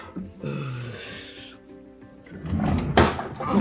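A household drawer sliding open or shut, a short scraping rumble followed by a louder knock and clatter near the end, close to the microphone.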